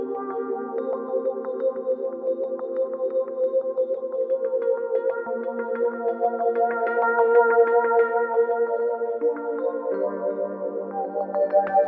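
A Yamaha Reface CP electric piano played with drive and echo effects, its sustained chords slightly distorted and trailed by repeating echoes, heard alone at an even, full level throughout.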